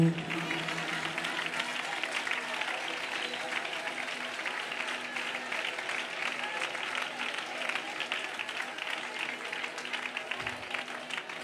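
An audience at a Malayalam Christian sermon claps steadily in a dense, continuous burst of applause, with a preacher's voice running underneath.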